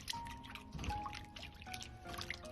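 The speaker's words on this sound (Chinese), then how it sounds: "全部切好后装入盆中，倒入清水，稍微清洗一下" Sliced pork is rinsed in a basin of clean water, giving soft trickling, pouring and dripping sounds with faint splashes and light clinks nearby.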